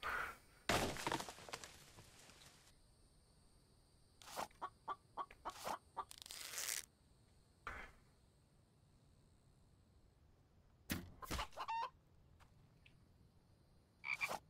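A chicken in the survival video game The Infected clucks and squawks in several short bursts, with clattering game effects between calls.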